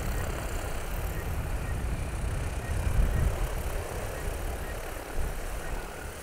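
A DJI Agras T40 agricultural spray drone hovers and turns, giving off a constant, broad rotor roar that stays fairly loud and steady with slight swells, and no one talks.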